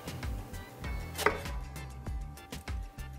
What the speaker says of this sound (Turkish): patlıcanlarımı doğruyorum